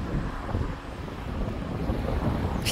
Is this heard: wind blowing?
yes